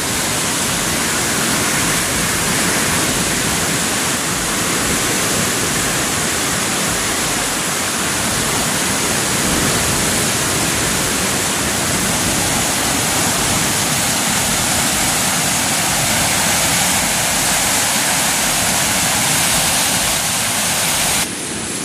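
Strong floodwater rushes through the Piñan river, a loud, unbroken roar of churning water that holds steady throughout with no break.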